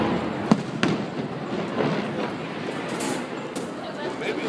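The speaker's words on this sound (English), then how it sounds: "doing fireworks and shit." Fireworks bursting at an amphitheater, with a sharp crack near the half-second mark, another soon after, then a steady rumbling wash of distant pops and echoes between buildings.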